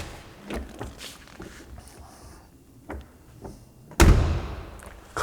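A Mercedes-Benz W107 500 SL door with sound-insulating panels swings shut in a workshop, a single heavy, solid clunk late in the clip after a few softer taps and handling noises.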